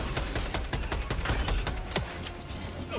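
Sustained automatic weapon fire in Helldivers 2, loud close shots rattling off in quick uneven bursts across the whole stretch, crowding together into a continuous barrage.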